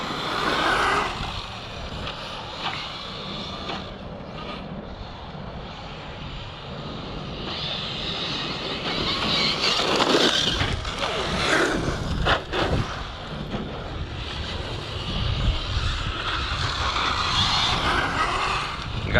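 A ready-to-run RC buggy fitted with Proline Badland truggy tires races around a track, its motor whining steadily and surging up and down in pitch as it speeds past, close and fairly loud with no talking.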